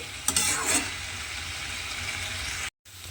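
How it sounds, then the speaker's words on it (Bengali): Potato and cauliflower fry in a covered pan over low gas, a soft even sizzle with a brief clatter of stirring near the start and a sudden cut to silence before the hiss resumes. "এইভাবে ঢাকা দিয়ে গ্যাসটা লোতে দিয়ে রান্নাটা করে নেব। আর এর ফলে দেখবেন আলু আর কপি খুব ভালোভাবে সেদ্ধ হয়ে যাবে আর সুন্দরভাবে ভাজা হয়ে যাবে।"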